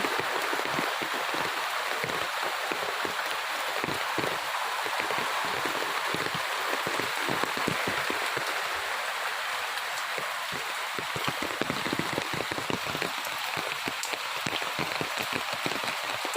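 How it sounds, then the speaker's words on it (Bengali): Steady morning rain pours down, a dense continuous hiss with close patters and drips on surfaces, even and unbroken throughout with no voices. "ঘুম থেকে উঠেই দেখছি বৃষ্টি পড়ছে।"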